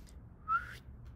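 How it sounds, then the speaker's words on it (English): A person whistles a single short, bright note that rises briefly out of a quiet background and stops. "Suddenly, out came a real whistle."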